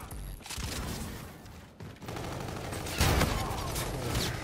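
Gunfire in a video game shooter, a gun game match on the classic Terminal map with classic weapons: rapid bursts of shots and a loud fusillade near the end, over continuous game noise.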